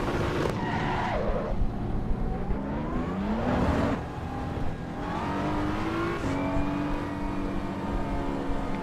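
A race car in the Assetto Corsa Evo racing game drives hard with a loud continuous engine roar, rising and falling through gear changes, while tyres squeal and skid repeatedly throughout.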